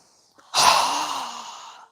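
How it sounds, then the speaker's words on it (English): A single strong exhale through a wide-open mouth during a yoga breathing exercise, a loud close breathy rush lasting over a second after a brief inhale catch. "to exhale with a strong exhale with our mouth open wide"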